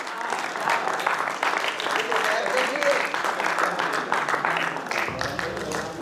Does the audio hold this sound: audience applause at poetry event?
yes